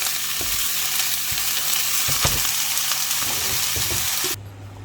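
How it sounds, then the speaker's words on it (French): A garlic clove sizzling in hot oil in a pan, a steady bright frying hiss with small crackles throughout, cutting off abruptly near the end. "je vais mettre un petit peu l'huile. Et je mets une gousse d'ail pour parfumer haricots."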